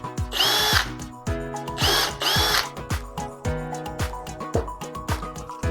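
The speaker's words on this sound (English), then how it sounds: "You pre-drill it." A power drill whirs through wood in two long bursts while pre-drilling for screws, followed by a series of short clicks and taps.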